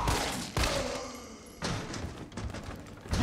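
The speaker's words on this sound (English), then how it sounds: "I actually recommend just firing 10 shots into her head" Gunshots crack out in Resident Evil 3 Remake, aimed at a zombie's head: a few sharp, loud bursts spaced about a second apart, each with a short fading tail.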